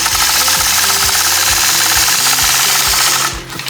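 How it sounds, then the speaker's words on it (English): Sewing machine quilting curved lines guided along a mini 4-in-1 machine quilting ruler, a loud, close, continuous motor hum with a regular rapid needle thump that drops away just at the end. "I'll just work my way across using that marking on the mini 4-in-1 machine quilting ruler as my reference and quilt those curved lines all the way across"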